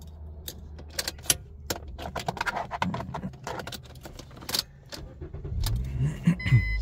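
A 2015 Toyota Corolla idles with a steady low engine rumble, overlaid by scattered close clicks and light rattles, including a jangle of keys, with no talking.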